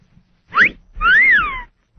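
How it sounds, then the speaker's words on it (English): A man gives a two-note pretty girl whistle: a short rising chirp, then a longer note that swoops up and falls back down, loud and clear against a quiet background. "First, I'm going to do the pretty girl whistle."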